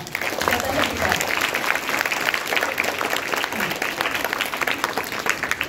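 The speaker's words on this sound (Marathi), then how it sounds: "त्यामुळे एकदा तुमच्यासाठी जोरदार टाळ्या." An audience at an education-initiation ceremony applauds loudly and steadily, a dense, sustained clapping that fills the whole stretch with no break.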